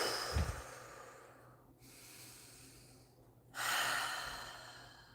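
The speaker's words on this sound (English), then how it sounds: "it's just through basic breathing like this." A person takes a slow, deep breath during a calming breathing exercise, a drawn-out airy inhale and exhale close by, followed by a brief pause and then a louder breath of air.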